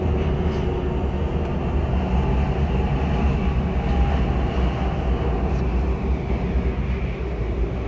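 Malaysia's MRT metro train runs on a rainy day, a steady loud rumble and hum of the moving carriage that holds evenly throughout.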